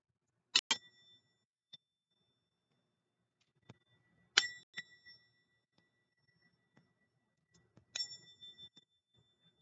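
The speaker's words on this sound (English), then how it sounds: "three chimes to get us going." Three chimes struck one after another, each a bright metallic ring with a lingering shimmer, spaced a few seconds apart in a quiet setting with a few soft knocks between.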